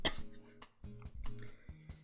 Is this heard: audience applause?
no